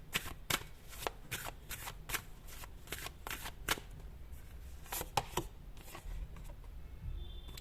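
A deck of tarot cards is shuffled by hand, giving a run of quick, close riffling and slapping strokes, then a few softer shuffles, with no talking.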